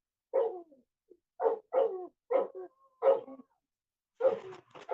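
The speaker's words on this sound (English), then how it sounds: "Let me see what the dogs are barking at." Several dogs bark outdoors in a run of short bursts, about six or seven barks spaced across the moment at moderate distance, with brief quiet gaps between them.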